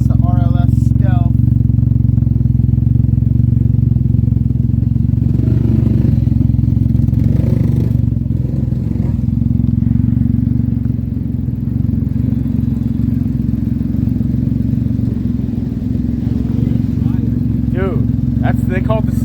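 Car exhaust fitted with an RLS Stealth muffler with the baffle installed, giving a steady low, mellow engine drone throughout with slight revving swells, while people talk over it.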